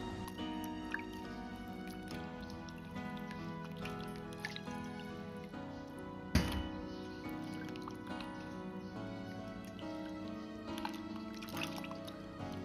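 Tomatoes and bitter melon are washed by hand in a basin of water, with soft sloshing, squishing and dripping close by, set against steady, quiet background music.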